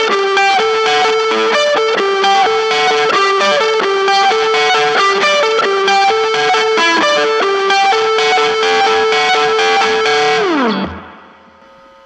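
A heavily distorted electric guitar runs through a DIY amp-in-a-box pedal, playing a fast, repeating riff loudly and up close for about eleven seconds, then ends with a downward slide and fades to near silence, with no voices.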